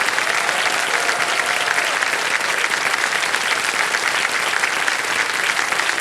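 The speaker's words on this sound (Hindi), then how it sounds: "तालियां बजती रहे अनन्या के लिए" Dense, sustained applause from a studio audience on a televised quiz show, steady and loud throughout with no pauses.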